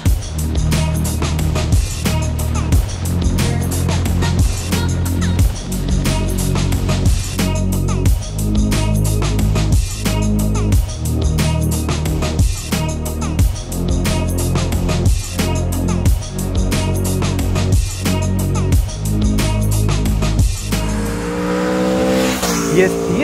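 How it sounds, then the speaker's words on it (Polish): Aprilia Tuono V4 2021 motorcycle with its V4 engine, loud and near, repeatedly revving in a steady pulsing rhythm with sharp throttle blips, ending in a different mechanical whine. "Uwielbiam silnik V4, uwielbiam jego dźwięk"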